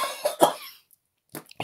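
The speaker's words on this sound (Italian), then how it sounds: "ancora un po' di tosse." A couple of harsh, close coughs, followed by a pause and then a short, quieter cough or throat catch at the end.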